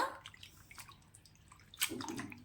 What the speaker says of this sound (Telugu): వాటర్లో బాగా వాష్ చేసేసుకోవాలి ఈ విధంగా కొద్ది కొద్దిగా వేసుకుంటూ వాష్ చేసేసుకోవాలి